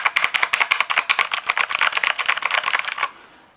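A compact E-Element Z-88 RGB mechanical keyboard with brown switches is typed on in a fast, steady run of crisp, close keystrokes for about three seconds, then stops.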